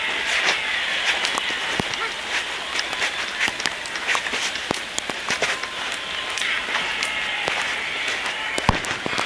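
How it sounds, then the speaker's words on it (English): Dense, steady hiss of heavy rain pouring down, with scattered sharp drop impacts and pattering throughout, no voices. "Look at it, it's pissing it down."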